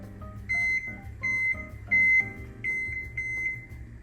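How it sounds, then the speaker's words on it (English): A kitchen oven gives a series of short electronic beeps in an uneven rhythm as it is set to preheat to 425 degrees, clear and close in a quiet room. "Okay, so now the oven is preheating."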